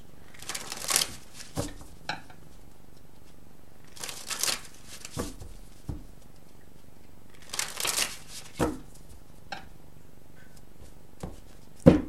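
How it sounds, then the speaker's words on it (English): Tarot cards shuffled and drawn in bursts, with crisp riffling flutters and single flicks and slaps of cards laid down between quiet pauses, close and fairly soft. "So let's just get the cards drawn"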